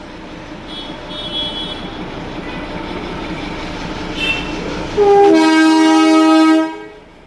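A train arrives at a busy Indian railway station with a steady rumble, then a loud, sustained horn blast rings out for nearly two seconds before fading.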